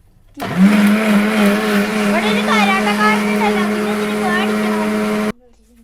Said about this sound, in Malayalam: ഒന്ന് അരച്ചെടുക്കട്ടെ കേട്ടോ തേങ്ങ വറുത്തത്